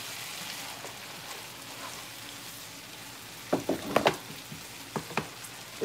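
Egg roll in a bowl sizzles in a pan as a steady crackling hiss, with a few louder pops and scrapes of stirring toward the end.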